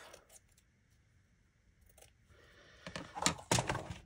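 Scissors cutting a piece off craft material for a handmade amethyst journal, quiet handling rustle first, then a few close, crisp snips near the end.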